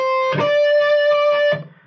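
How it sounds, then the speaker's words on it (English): A single electric guitar phrase from the first half of an intro riff: a few quick picked notes then a long ringing sustained note, close and clear, ending in a short decay. "the first half of the intro guitar riff sounds like this"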